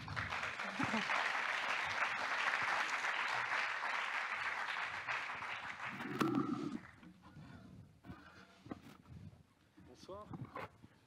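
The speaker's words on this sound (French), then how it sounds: "Sous vos applaudissements." An audience at a conference on digital technology and education in Lorient gives a dense, loud round of applause for about six seconds, which then fades out as voices and microphone handling sounds take over.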